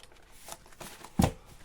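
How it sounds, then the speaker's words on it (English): A deck of tarot-style cards gets a short shuffle, a few soft riffles and slaps building to one sharper snap near the end, close and quiet. "It does need a shuffle"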